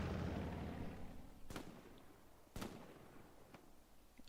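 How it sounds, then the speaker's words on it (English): Gunfire from a strafing run in the video game Hell Let Loose, three sharp distant cracks about a second apart, following a fading roar. "Strafing run takes out that spotter there."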